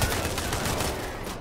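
Rapid gunfire in the video game Payday 3, a dense burst of fusillade throughout, fairly faint and continuous.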